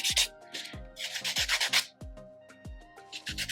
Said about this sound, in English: I'm just gonna buff these nails, just so you get out all those extra big scratches.